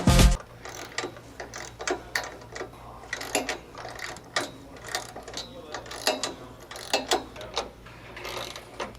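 A hand ratchet tightens rock slider bolts on a Nissan Xterra. It makes repeated bursts of quick metallic clicking in an uneven rhythm, close and fairly clear, with no talk.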